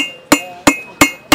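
A hammer rings sharply on hot steel over an anvil while a small knife tang is drawn out, four evenly spaced metallic strikes with bright clinking decay, close and loud with no talk.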